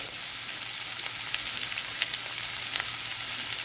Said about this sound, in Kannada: ಸ್ವಲ್ಪ ಎಣ್ಣೆಯಲ್ಲಿ ಫ್ರೈ ಮಾಡಿದರೆ ಸಾಕು ಮತ್ತು ಗೋಡಂಬಿ